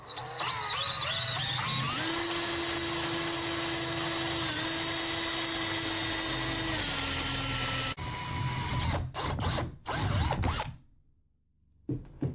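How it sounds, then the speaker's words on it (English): A power drill bores a hole through a coin, its motor whining steadily at a high pitch for several seconds, then stopping and starting in short bursts before falling silent. "So now we're going to go ahead and move on to drilling it."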